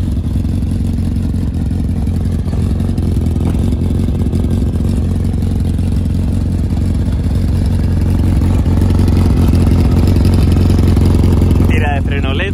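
A Kawasaki Zephyr 750 cafe racer motorcycle engine runs steadily at a loud, even idle with a low droning rumble, rising slightly near the end.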